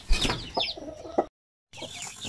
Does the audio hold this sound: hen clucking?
yes